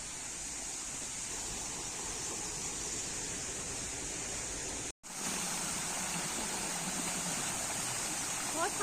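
Water rushes and gurgles steadily close by, a constant loud flow with only a momentary cut partway through.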